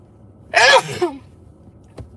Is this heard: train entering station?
no